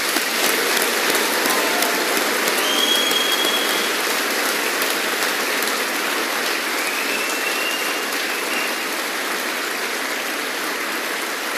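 Audience applause at a graduation ceremony, a dense, steady wash of clapping from a large crowd that stays loud and even for the whole stretch, with no voices over it.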